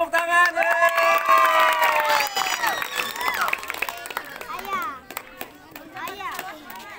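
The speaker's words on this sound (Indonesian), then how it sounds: "tepuk tangan!" A crowd of young spectators at a training sparring match cheers and claps, with loud, overlapping high-pitched shouts and squeals swelling and fading, sharp hand claps scattered throughout, and a voice talking over the noise.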